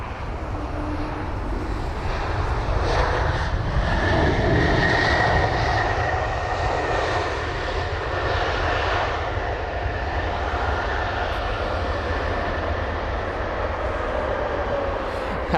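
An Airbus A220 airliner at London Heathrow sends a loud, steady jet-engine roar that holds throughout with no break, with no one talking over it.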